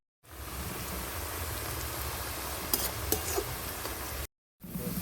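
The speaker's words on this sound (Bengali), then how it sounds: "এইভাবে আমি নেড়ে চেড়ে করে ভেজে নিচ্ছি" Potatoes fry in hot oil in a pan and get stirred, making a steady, fairly quiet sizzle with occasional spatters and scrapes and a brief gap near the end. No one speaks.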